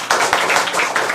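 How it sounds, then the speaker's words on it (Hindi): An audience in a discussion class claps loudly and steadily, a dense continuous patter of many hands close by. "चलिए इनका भी नाम पे जोरदार ताली बजाइए"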